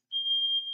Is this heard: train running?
no